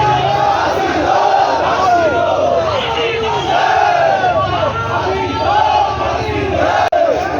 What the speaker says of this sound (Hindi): बहुत बड़ा विरोध प्रदर्शन यहाँ पे सामने से आ रहा है एक जुलूस के रूप में